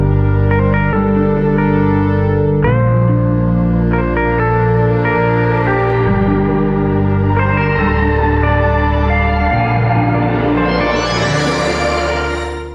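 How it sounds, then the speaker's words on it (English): Synthesized tones run through the Luxverb reverb in FL Studio with pitch feed forward mode, sustained chords and notes with shimmering pitch-shifted reverb tails that rise higher toward the end, loud and continuous without speech. "Luxverb gained a pitch feed forward mode, wherein the pitch shifted audio going into the reverb engine is not fed back into the input of the feedback section"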